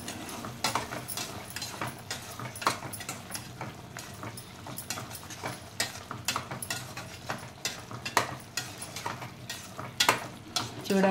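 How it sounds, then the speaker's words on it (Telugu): Curry sizzles steadily in a pan while a spoon or spatula stirs and scrapes against the metal in irregular clatters, close and continuous with no talking. "చూడండి ఎంత మంచిగా ఫ్రై అవుతుందో."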